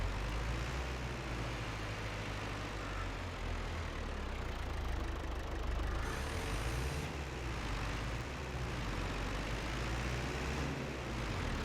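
A tractor engine in a farming video game labors under load while pulling a large trailer, a steady low rumbling drone that runs continuously at constant level with no talk over it.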